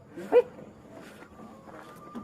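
A single short dog bark or yelp sounds once early, moderately close, followed by quieter background noise and a faint steady tone.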